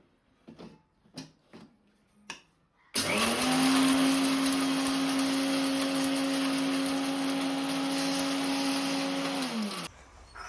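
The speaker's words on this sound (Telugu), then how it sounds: "ఫస్ట్ వాటిని అయితే వేసుకొని మిక్సీ జార్లో ఉప్పు వేసుకొని మిక్సీ పట్టుకుంటున్నాను" After a few sharp clicks, a mixer grinder grinding roasted chillies with salt in the jar starts up and runs as a loud, steady whirring drone for about seven seconds before cutting off.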